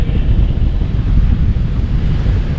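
Strong wind roars steadily across the microphone at a coastal spot in Turkey, a loud continuous rumble with gusty buffeting and no voices.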